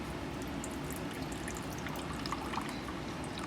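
Liquid, water or beef broth, pours steadily into a pot of beef stew with onion soup mix, a continuous close splashing trickle without pauses.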